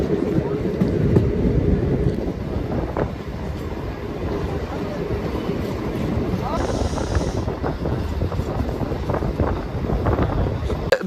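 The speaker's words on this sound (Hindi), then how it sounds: "देख सकते हैं इस वाली ट्रेन से हम आए।" A train at Banihal station in Kashmir gives a steady rumbling roar, fairly close, with wind buffeting the microphone throughout.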